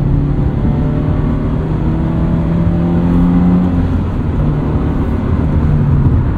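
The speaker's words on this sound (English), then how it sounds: "we have the MRT Street Touring Exhaust, which I think for my purposes, my wants, is just about perfect" A 2022 Subaru BRZ fitted with an MRT Street Touring exhaust, heard as a loud, continuous engine drone with shifting tones throughout, like steady driving or revving close to the car.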